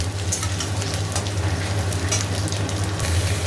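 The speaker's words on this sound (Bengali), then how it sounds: "আলুগুলো সব দিয়ে দিয়েছি, আলুগুলো একটু ভাজা হোক" Potatoes frying in oil in a pan, a steady, close sizzle with faint crackle that holds evenly for the whole stretch, with no talking.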